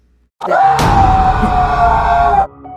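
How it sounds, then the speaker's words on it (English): A single loud, sustained human scream in a creepypasta reading, bursting in abruptly and holding for about two seconds before cutting off. "Jeffy let out a huge scream."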